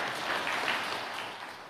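A church congregation applauds at a sermon gathering, a steady broadband wash of many hands clapping that holds fairly even and eases slightly toward the end, with no voices over it.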